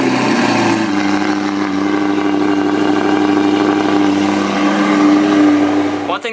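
An Audi R8 engine fitted with an Armytrix exhaust starts up and settles into a loud, steady idle with a deep droning hum, ending in a brief clatter.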